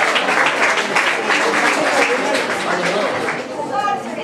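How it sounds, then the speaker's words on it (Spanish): Dense applause from a crowd at a tribute event in a museum in Guayaquil, Ecuador, fills the whole stretch, steady and loud, then thins slightly near the end as a few voices come through. "Aplausos fuertes para ellos."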